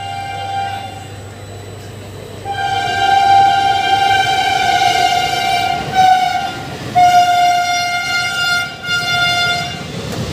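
The 12516 Silchar–Coimbatore Express rumbles past while its horn blares in long, harmonic blasts, several sustained honks broken by short gaps over the steady rolling noise.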